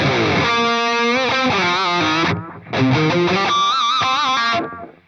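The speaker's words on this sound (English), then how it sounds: "Let's go for the Bucket Brigade delay because I think that one sounds really good." An electric guitar plays a melodic line through a bucket brigade delay, a warm, repeating echo trailing each note, loud and up front, with a short pause midway.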